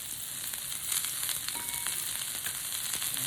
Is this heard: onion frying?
yes